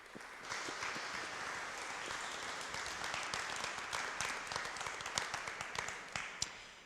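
An audience applauds a lecture speaker at a talk on dinosaurs, evolution and religion, steady clapping from a crowd building up and continuing for several seconds.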